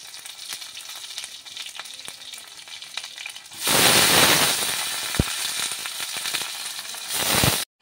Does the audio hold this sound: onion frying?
yes